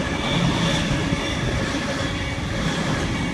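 A train runs through a railway station, giving a loud, steady rumble of wheels and carriages that holds throughout without a break, with no talking.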